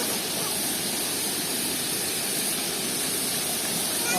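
Waterfall at Curug Cipanas in Parongpong, Bandung, a hot-spring area, giving a loud, continuous broadband rush of falling water that stays even from start to finish.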